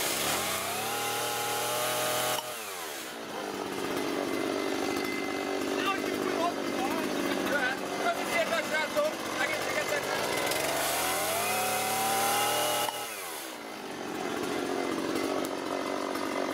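Veteran chainsaw running at a demonstration event, its engine revving loud and steady for long stretches with brief drops in between, while voices talk over it.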